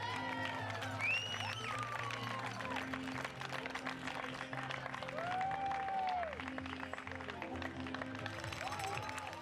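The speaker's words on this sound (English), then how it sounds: "she runs down the final 100 metres to the applause and encouragement of the crowd" A crowd at the Ironman New Zealand finish line applauds and cheers steadily as an athlete runs the last stretch, with whistles and shouts rising above the clapping.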